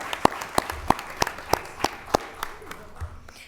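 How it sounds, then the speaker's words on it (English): Audience applause at a school board meeting, here a sparse, rhythmic series of distinct claps, close and evenly spaced, thinning out toward the end. "let's give Kellen a well-deserved round of applause"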